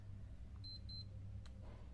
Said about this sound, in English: You can hear a beep sound, and now its alarm is off.